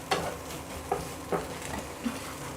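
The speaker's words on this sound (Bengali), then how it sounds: "ডিমটাকেও আমি এবার এটাকে নেড়ে টুকরো টুকরো করে নেব, ঘেঁটে নেব" A pan of egg for fried rice is stirred and broken up, giving a few soft scraping strokes over a faint sizzle, fairly quiet and spaced apart.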